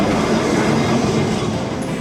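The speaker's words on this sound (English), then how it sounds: "These trams are public transportation, but they are such a fun and scenic ride through the town" A historic Lisbon tram rolls through the city with a loud, steady rumble of wheels and motor from inside the car, continuous throughout with no talking.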